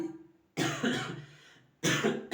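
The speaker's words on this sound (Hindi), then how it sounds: "सॉरी दोस्त खांसी आ रहा है।" Two harsh coughs, close and fairly loud, separated by a short pause after a brief throat sound.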